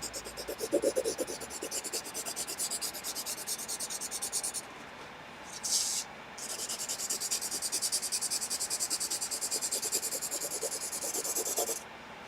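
A pencil is pressed and dragged along the back of paper to transfer graphite onto taped-down watercolor paper. It makes a steady, dry, scratchy rubbing that continues for several seconds, broken by two short pauses, alone and close.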